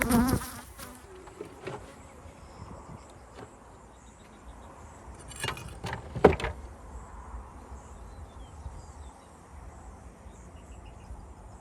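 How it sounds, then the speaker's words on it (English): Honeybees hum and buzz steadily around an open hive nearby, with a few louder close passes and some light clatter of frames being handled, no speech. "These bees aren't being too bad today."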